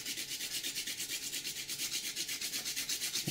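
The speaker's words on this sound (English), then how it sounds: "With a microplane grater." Fresh ginger rubbed over a microplane grater above a pan of mushrooms and onions, a close, steady rasping scrape in fast, even strokes with no talk.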